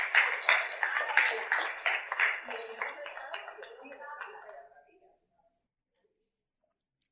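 A church congregation claps together in rhythmic bursts for several seconds, close and fairly loud, with voices mixed in before the clapping fades out into near silence and one final faint knock.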